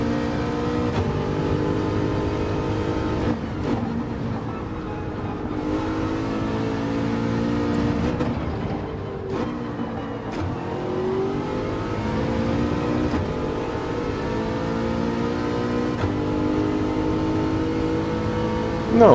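Race car engines in Gran Turismo 7 drone and rev continuously at close range, pitch rising and falling through gear changes across the whole stretch with no talk over them.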